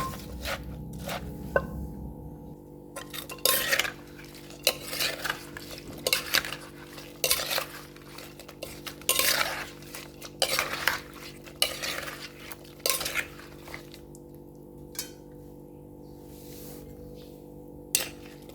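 Fruit som tam with pineapple and pomelo is worked in a mortar, bringing irregular close knocks and scraping clatter in bursts with short pauses between them, and no talk over it.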